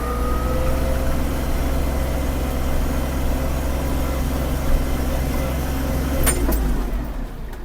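Kubota GL-320 mini tractor engine at full throttle, a steady loud low-pitched drone with a constant rumble that holds for several seconds before easing off near the end.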